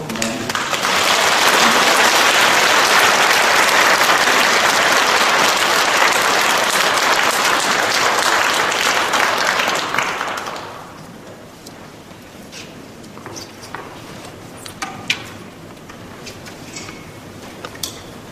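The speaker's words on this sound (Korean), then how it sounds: "오신 분들 좋은 박수로" Church audience at a lecture breaking into loud, dense applause that holds steady for about ten seconds before fading quickly, leaving scattered faint claps and small noises in a quiet hall.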